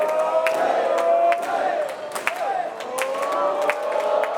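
A crowd at a wrestling event roars and cheers steadily, with scattered whoops and claps rising out of a loud, sustained din.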